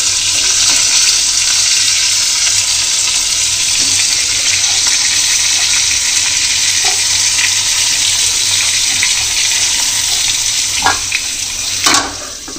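Stuffed bitter gourds fry in oil in a pan over low heat, a steady loud sizzle and hiss close by with a few faint clinks near the end.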